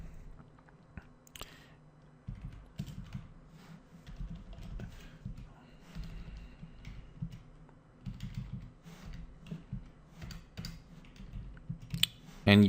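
Typing JavaScript code on a computer keyboard, soft irregular key clicks in bursts and pauses, close and fairly quiet, with a faint voice at one point.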